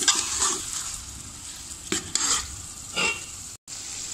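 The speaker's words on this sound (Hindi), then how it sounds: "अब हम 2 मिनट भून लेंगे।" Large chicken pieces sizzle loudly in a pan as a spoon stirs them. Scraping bursts recur every second or so over the steady frying hiss, and there is a brief cut near the end.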